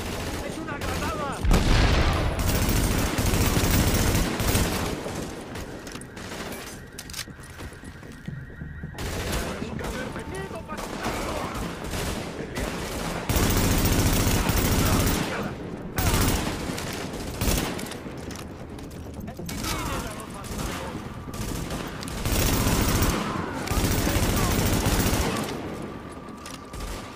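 Sustained automatic gunfire in Tom Clancy's The Division, a third-person shooter set in a ruined city, with rapid rattling bursts repeating across the scene, mixed with shouted voices and combat noise, loud and close throughout.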